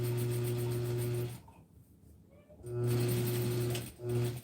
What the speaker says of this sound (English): I love to machine sew my bust pads in when I get a chance